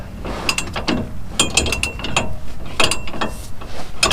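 A ratchet clicks in quick, close bursts while snugging a tie rod on a 2019 Chevy Silverado 2500 High Country, its pawl chattering loudly in short repeated runs with no talking.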